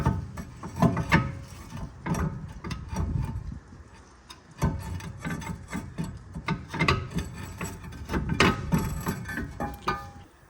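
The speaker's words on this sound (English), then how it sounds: "I'm gonna use my impact with a T30 on it to take the set screw off out." An impact driver with a T30 bit works a set screw out of a rear brake rotor on an Audi A6 (C6), giving close, irregular bursts of rattling, grinding hammering with brief pauses between them.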